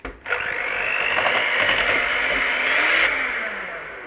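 Blender whizzes chocolate cake batter with cocoa powder, a loud steady motor whine that starts abruptly after a short thump, holds for about three seconds and then winds down.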